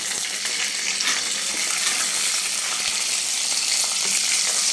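Peanuts and peas frying in a pan for a Khandesh-style dish, a steady dense crackling sizzle that holds loud and close throughout with no talk.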